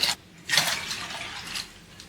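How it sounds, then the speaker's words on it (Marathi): Short bursts of water pouring and splashing into a vessel of soaked lentils, close and moderately soft, with a gap between pours. "त्याच्यामध्ये दोन वाटी पाणी घालून घ्यायचंय"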